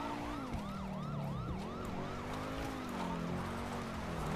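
Wailing police car sirens in the game GTA 5, several cars chasing at once, the sweeping up-and-down tones continuous and loud, overlapping with a lower steady siren throughout.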